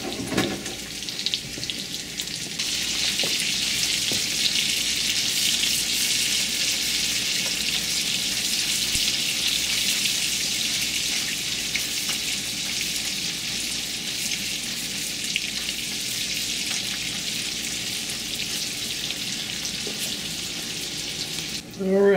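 Chorizo and bacon fry in a pan for cowboy beans, giving a loud, continuous sizzling hiss that holds steady throughout with small crackles.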